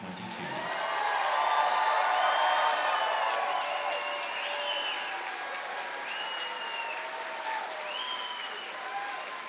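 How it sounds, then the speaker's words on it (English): Large audience applauding graduates at a college of osteopathic medicine commencement, a broad sustained wash of clapping and light cheering in a big hall, swelling early and then holding steady, with some whistles over it. "one more round of applause for the class of 2022."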